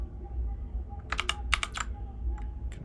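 Typing on a computer keyboard: a short cluster of crisp, close key clicks in the middle, then a few isolated taps over a low steady hum, with no talk.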